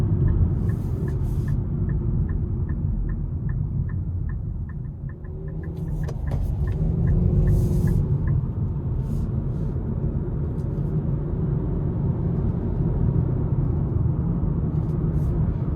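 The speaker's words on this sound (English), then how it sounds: "you're gonna hear the tires hit the pavement, especially on that rougher stretch of the interstate" A steady low rumble of tire and road noise fills the cabin of a 2026 Nissan Sentra SL cruising on a rough stretch of interstate, with a faint rhythmic ticking early on.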